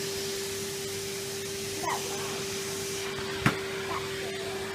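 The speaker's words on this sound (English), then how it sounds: "let's start hoovering" A Henry Hoover vacuum cleaner runs with a steady, close motor whine and airflow hiss, with a couple of brief bumps and a short rattle as debris is sucked up.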